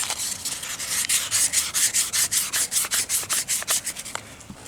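Fine-grit emery cloth with 3-in-1 oil is rubbed back and forth over a metal part in quick, even strokes, a close, rhythmic scratchy swish repeating about four times a second, with no talking.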